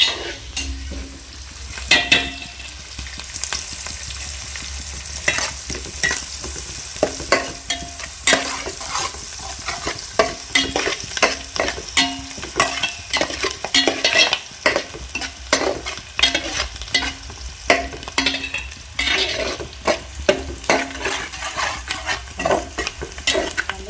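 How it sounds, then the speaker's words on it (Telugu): Onions frying in a pot with a pinch of turmeric for beef biryani, a steady close sizzle broken by frequent scraping and clinking strokes of a spoon stirring against the pan, with no talking. "ఉల్లిపాయ కూడా ఫ్రై అయిపోతుంది."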